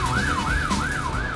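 An emergency vehicle siren wails loud and close in a steady rising-and-falling sweep, about four cycles, over road traffic noise on congested European streets where police and paramedic motorbike riders work.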